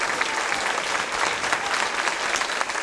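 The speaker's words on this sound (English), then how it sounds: "Let's give a big clap for Mrs. Lockett, our principal." An audience claps steadily at a school music program event, a dense, even burst of applause filling the room without a break.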